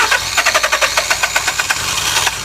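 A 2003 Nissan Altima 2.5-litre engine with a no-start condition cranks during a spark test, the starter churning in a fast, even rhythm of roughly a dozen pulses, close and loud, without firing.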